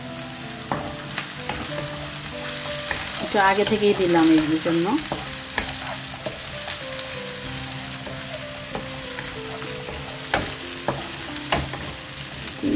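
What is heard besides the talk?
prawns frying and being stirred in a pan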